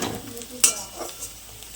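A bay leaf drops into a hot pan of oil while paneer biryani cooks, giving a soft sizzle with a brief sharp crackle and light stirring.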